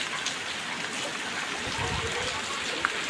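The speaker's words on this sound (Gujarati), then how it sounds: "તો વરસાદ તમે જોઈ રહ્યા છો વરસાદ સારો પડે" Rain falls steadily in a village, a dense close patter and trickle of water with no voices.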